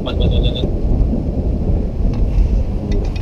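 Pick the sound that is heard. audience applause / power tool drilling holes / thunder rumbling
thunder rumbling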